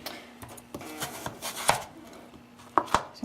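Knife chopping roasted-salad vegetables into 1-inch cubes on a board, a handful of sharp, irregular thuds and clicks, with two louder chops near the end, close and fairly quiet with no talking.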